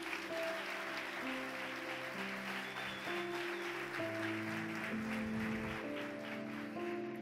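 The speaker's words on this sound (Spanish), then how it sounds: "¿Cuántos pueden dar un aplauso a Jesús?" Church congregation applauding during a Spanish-language sermon, steady clapping sustained under sustained musical tones from a keyboard or organ.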